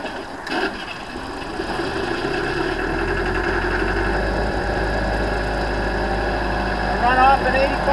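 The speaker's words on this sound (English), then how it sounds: "I'm going to start this plant and show you how simple this is." An 85 kW gold wash plant's engine starts, then idles and runs steadily at a loud, close, even drone with a low rumble and slight knock throughout.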